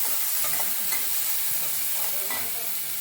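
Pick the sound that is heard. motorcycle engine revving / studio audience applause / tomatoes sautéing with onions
tomatoes sautéing with onions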